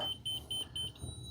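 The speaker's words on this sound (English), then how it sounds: "retract all button here so we can shut up the beeping here for a second" A 2026 Sunseeker 2400BDS Class C motorhome's leveling jacks give a series of four quick, high-pitched electronic warning beeps in steady rhythm, followed by a sustained tone, over a low background rumble.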